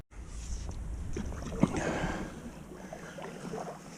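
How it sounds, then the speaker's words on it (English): A paddle works through the water beside a small boat near a beaver feed pile at a boat lift, with faint splashes and soft drips over a quiet outdoor background and one sharp knock partway through. "Doing some paddling here."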